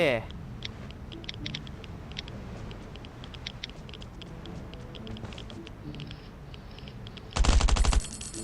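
Bursts of rapid automatic gunfire in the Last Island of Survival game, scattered soft shots through the clip and a loud, dense volley near the end, with someone talking over it.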